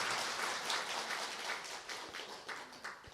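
Audience clapping during a Brahma Kumaris spiritual class, a soft, scattered patter of many hands that rises and falls slightly, faint and without voices.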